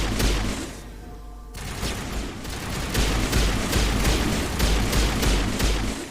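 Karpov rifle in Call of Duty: Vanguard firing repeated loud, close shots in a steady rhythm, with a brief pause near the start before the shooting resumes and continues.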